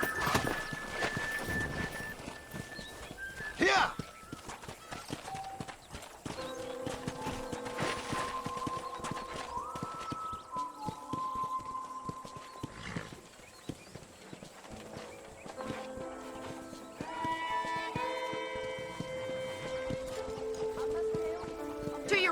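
Horse hooves clip-clop at a walking pace amid Red Dead Redemption game music and effects, with a horse whinnying briefly near the start.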